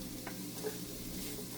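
Diced green pepper hitting a hot pan while making paneer burgers, a short steady sizzle with faint stirring scrapes, close and even throughout.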